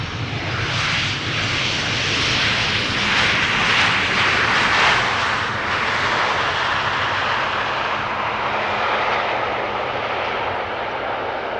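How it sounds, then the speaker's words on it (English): A Boeing 737 airliner arriving at Amsterdam Schiphol Airport passes with a loud, continuous broadband engine roar that swells slightly and then slowly fades, heard at a distance outdoors. "737 arriving from Porto in Portugal"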